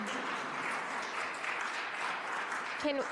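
Audience applause at a city council meeting rolls on steadily as a continuous wash of clapping, with a brief voice cutting in near the end.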